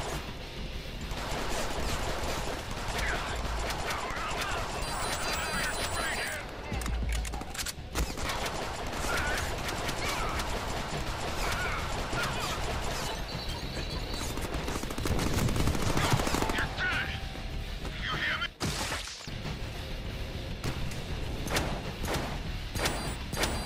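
Shotgun blasts and gunfire from the Deadpool video game, a dense barrage of loud repeated shots with crashes and thuds, with a faint voice now and then beneath the action.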